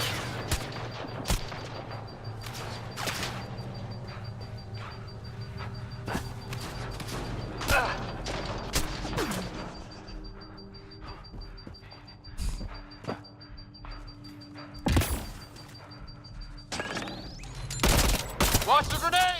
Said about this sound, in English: Where the heck is that shot coming from?